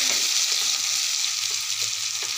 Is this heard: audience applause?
no